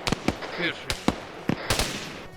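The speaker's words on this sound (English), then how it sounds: "We're gonna toss grenades in there." Grenades explode in a tactical shooter video game, giving a rapid run of sharp, punchy blasts and cracks close together, with a voice briefly heard among them.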